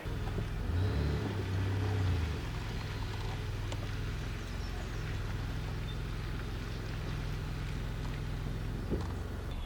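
A pickup truck towing a travel trailer rolls forward slowly, its engine a steady low rumble with a brief louder surge near the start, continuous and fairly close, with no talk.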